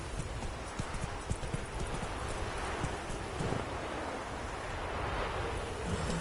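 Horse hooves galloping in a PS4 video game, a fast, steady clip-clop rhythm running under a broad wash of wind-like game ambience throughout.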